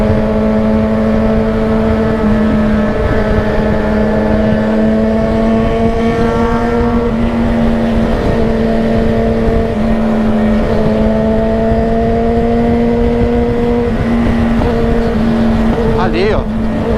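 A group of seven or eight motorcycles rides together on an outing, their engines droning steadily and loud nearby with shifting pitches, while riders shout and talk over the noise.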